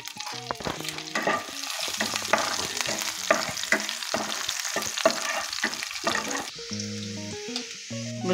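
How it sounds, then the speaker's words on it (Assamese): Onion, garlic and dried chillies frying in hot oil, a dense, busy close-up sizzle with stirring clatter that runs steadily, then drops to a thinner hiss near the end. "ভজা তেলতে মই অকণমান পিঁয়াজ, 5 ফুৰণ কেইটামান, শুকান জলকীয়া কেইটামান দি দিছোঁ।"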